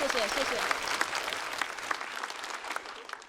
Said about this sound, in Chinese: 那无论结果如何，我们都把掌声送给今天表演的8位